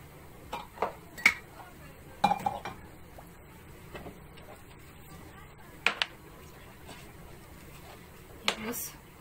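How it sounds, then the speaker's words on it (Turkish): Dishes, pots and cutlery are washed by hand in a village kitchen, giving faint, scattered clinks and clatters over a quiet background. "Bir yandan da bulaşıkları yıkıyorum."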